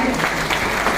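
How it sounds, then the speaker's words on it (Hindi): Enthusiastic applause from the audience at a Kurmi community evening event in Raipur, a loud, dense wash of clapping that fills the whole moment. "पुरुषोत्तम भैया पर एक बार जोरदार ताली बजाएं।"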